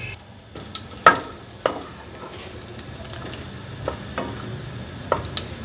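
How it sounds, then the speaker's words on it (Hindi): Whole cumin seeds, about a teaspoon, dropped into melted ghee for aloo badiyan salan, giving a soft steady sizzle broken by a few sharp stirring clicks and scrapes close by, with no voices. "घी जब मेल्ट हो जाए तो अब हम इसमें साबुत ज़ीरा जो मैंने बताया था 1 टीस्पून वो डाल दूँगी मैं"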